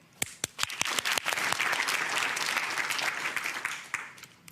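A studio audience at a divorce court show starts with a few separate claps, swells into steady, dense applause for several seconds, then thins out toward the end.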